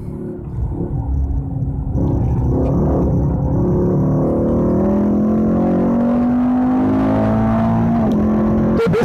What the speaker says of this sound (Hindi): एकदम हार्ड ब्रेकिंग।